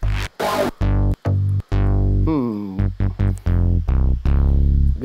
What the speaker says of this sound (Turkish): Bakalım BA. O asit sesi.